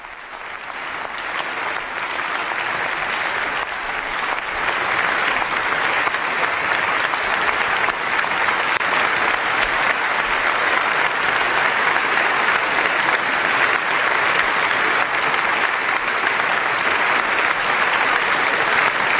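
A parliament audience stands and applauds Pope Benedict XVI after his address to the German Bundestag, a dense, sustained ovation that swells within the first few seconds and holds steady and loud throughout.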